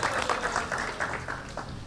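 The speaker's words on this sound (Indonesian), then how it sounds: "Kita kasih tepuk tangan yang buat yang putri-putri, Mbak Dian dan Mbak Amelia." At a press conference ahead of a combat-sports event final, a small crowd gives a short burst of applause. It sounds fairly faint and a little distant, and lasts under two seconds.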